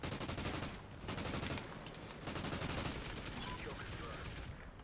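Gunfire from an MTAR assault rifle in the shooter game Call of Duty: Ghosts, heard as dense, rapid, continuous bursts of shots running loud throughout.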